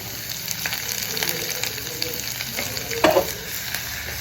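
Chopped onion and ginger fry in oil in a pan: a close, steady sizzle runs throughout, broken near the end by one louder scrape of stirring.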